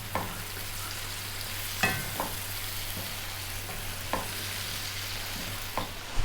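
Shredded white cabbage and carrot frying in a pan over above-medium heat, giving a steady soft sizzle broken by several distinct scraping stirs at irregular intervals.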